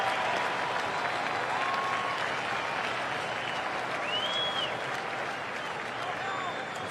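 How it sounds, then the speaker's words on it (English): A stadium crowd at a 2008 NFL football game in Philadelphia, Cardinals at Eagles, applauds in a broad, sustained wash of clapping that holds steady throughout, with a broadcast voice faintly underneath. "this crowd gives them a nice hand going off."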